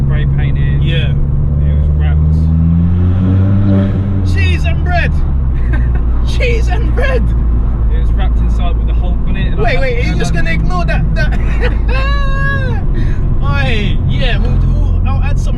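A Ford Fiesta ST EcoBoost with a Stage 1 Revo tune at 230 bhp revs its exhaust inside a tunnel, the engine note rising and echoing while people talk loudly over it.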